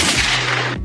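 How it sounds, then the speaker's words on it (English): A short, loud, booming burst plays as a sound effect of gunshots mixed with crowd applause, a dense, harsh blast that fills the moment and then cuts off abruptly. "Gunshots in the crowd with an applause."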